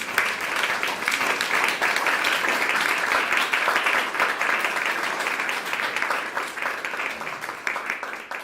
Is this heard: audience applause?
yes